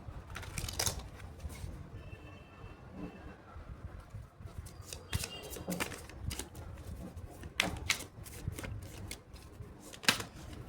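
Tarot cards shuffled by hand in a quiet room, giving repeated soft riffling bursts and light papery slaps at an uneven pace, with no voices.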